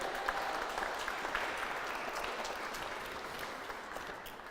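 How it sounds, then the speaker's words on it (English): An audience at a university fashion show claps steadily, a dense wash of applause that holds evenly throughout and fades only slightly toward the end. "So if you want to give them a round of applause."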